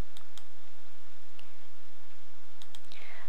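Several sharp, isolated computer mouse clicks sound over a quiet steady hum, spaced irregularly, with a faint electronic chirp near the end.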